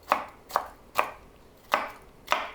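Five sharp knife chops through cucumbers on a cutting board, spaced unevenly with brief pauses between strokes, close and clear with no talking.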